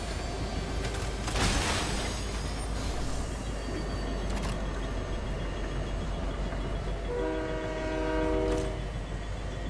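A train in the video game Fortnite rumbles past continuously, with bursts of noise and a sustained horn-like tone near the end, loud throughout with no talking.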